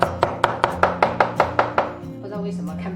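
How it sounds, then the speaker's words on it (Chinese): Knife chopping garlic cloves into mince on a cutting board, about nine quick, even, close thuds, then a lower scraping hum as the chopping stops. "然后切成蒜末。"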